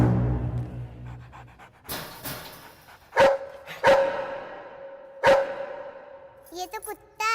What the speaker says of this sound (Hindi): ये तो कुत्ता है।